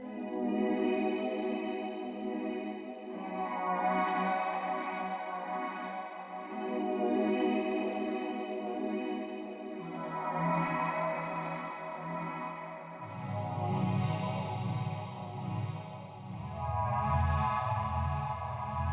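A soft, evolving lo-fi synthesizer pad from a Serum preset holds sustained chords that shift slowly every few seconds, airy and quiet, with no voices over it.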